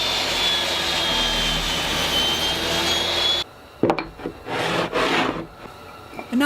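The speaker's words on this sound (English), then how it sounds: "and then I'm going to cut this piece in half." A power tool cuts a wooden piece in half while making coasters from a failed guitar body, a steady loud whine for several seconds that stops abruptly, followed by scattered knocks and handling noises.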